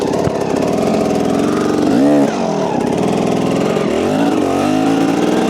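A motorcycle engine revs during a slow, clutch-controlled wheelie for a pivot turn, close and loud, with sustained engine drone and two rising-and-falling rev swells, no talking.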